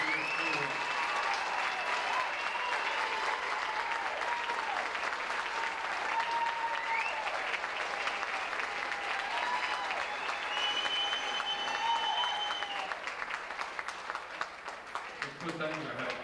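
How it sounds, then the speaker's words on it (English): Vigorous applause fills the room for a chairman at a banquet-style gathering, with voices and a few whoops mixed in, steady for most of the stretch then thinning out at the end. "I would like everybody to please give a big round of applause for the chairman, Kenny McAdams."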